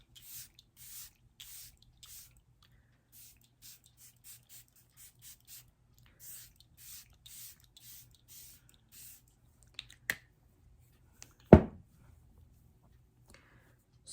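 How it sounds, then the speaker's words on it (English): A few quick spritzes from a spray bottle hiss faintly, followed by one sharper, louder spray burst; otherwise quiet. "Let me spray my face down really quick."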